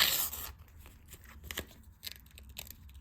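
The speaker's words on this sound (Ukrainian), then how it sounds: "Ладно, давайте порвем с вами." Paper rips and crinkles in short bursts, a loud tear at the start followed by several quieter ripping and rustling sounds, close to the mic.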